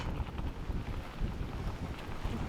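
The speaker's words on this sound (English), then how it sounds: "I have no clue if any of this sound is coming out because it's very windy right now" Steady low rumbling wind buffeting the microphone, continuous and loud throughout with no voices.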